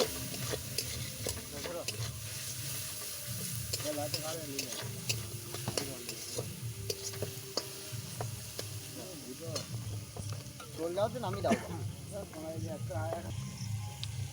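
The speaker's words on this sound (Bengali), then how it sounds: "ধনে গুঁড়ো আর জিরে গুঁড়ো গেল। কষানো হচ্ছে।" Ground cumin and coriander sauté in a pan, a soft sizzle with scraping stirs running under near-constant conversation from several people.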